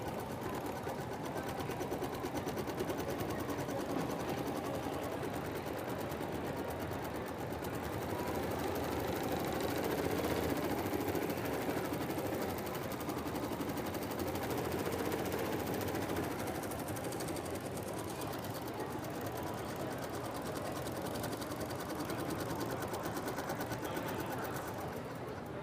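An embroidery sewing machine stitches in a hoop with a steady, continuous rapid chatter that holds an even level throughout, moderately loud.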